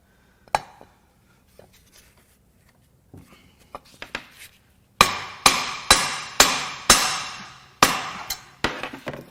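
A crashed Victory Freedom 106 Ci engine has its piston struck with a metal hammer. A few scattered light taps come first, then a run of about eight loud, ringing blows at a steady pace, close up.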